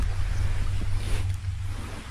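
Steady sea wind blows by the seaside near a resort after heavy rain. Constant low buffeting of wind noise on the microphone sits under a soft wash of surf, with no talking.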